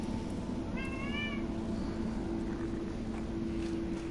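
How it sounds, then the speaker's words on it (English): A house cat gives a single short, whining meow partway through, fairly clear above a steady low electrical hum and background drone. "Sorry, my cat is whining."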